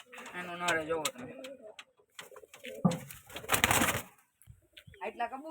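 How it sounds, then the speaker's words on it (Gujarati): Pigeons in a loft coo repeatedly at close range, their low throaty calls overlapping with a brief flutter of wings, while a person talks nearby between the calls. "આટલા કબૂતર છે."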